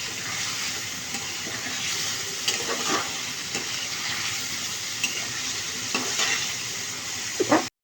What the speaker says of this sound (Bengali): এখন মশলাগুলোর সাথে আলুটাকে ভালো করে কষিয়ে দিতে হবে